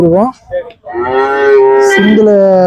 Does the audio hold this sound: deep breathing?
no